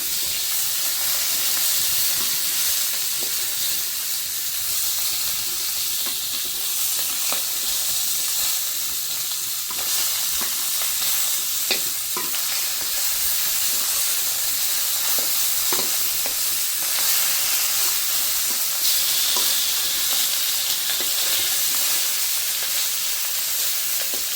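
Salted fish frying in hot oil in a pan as the pieces are turned, a steady, dense sizzle and hiss with small crackles and pops scattered throughout, close and even in loudness, with no talking.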